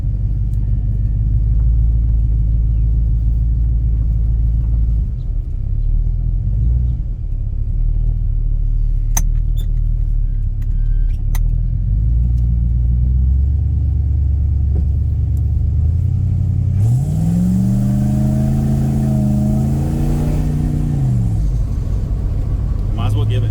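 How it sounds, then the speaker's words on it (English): An Avanti car revs hard and spins its tires in a burnout, a loud steady engine rumble building into a rising, wavering whine of wheelspin toward the end, with voices under the engine. "There was some spinach going there, just a little bit of tire smoke. I think she'll do a burnout."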